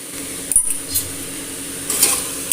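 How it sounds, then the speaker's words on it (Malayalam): Masala with Kashmiri chilli powder and salt being sautéed in a pressure cooker for sambar rice, a quiet low sizzle with a few sharp metallic scrapes and clinks of a spoon against the pot, no talking. "നന്നായി വഴറ്റിയെടുക്കാം"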